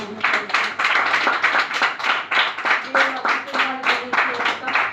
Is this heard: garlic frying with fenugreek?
no